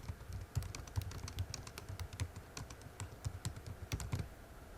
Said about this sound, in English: type in the content here